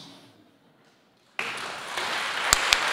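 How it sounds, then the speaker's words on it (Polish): Audience applause at a literary award gala breaks out abruptly after a near-silent pause, a steady wash of many hands clapping with a few sharper, louder claps near the end. "Wielkie brawa."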